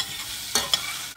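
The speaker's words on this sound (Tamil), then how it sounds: "கருவேப்பிலையும் சேர்த்து வதக்கிக்கலாம்." Onions and curry leaves sizzle softly in a pan while a utensil scrapes and stirs twice in quick succession.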